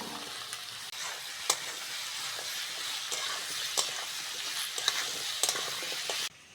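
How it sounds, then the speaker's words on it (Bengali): Potatoes and onions fry in hot oil in a pan, giving a steady close sizzle with sharp crackles and occasional stirring clinks, no voices. "আলু আর পেঁয়াজ ভালো করে ভেজে নিয়েছি"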